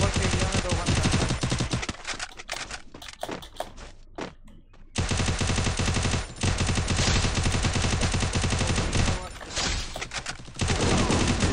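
Dense, loud gunfire in a video game, long rapid bursts that break off for a few seconds and then resume, mixed with speech over voice chat.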